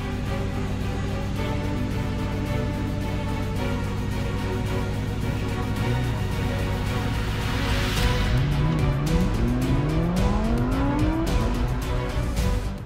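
A Ferrari in Gran Turismo 7 holds a steady loud engine drone, then a tire squeal and skid sweeps upward as the car slides and accelerates, with no speech.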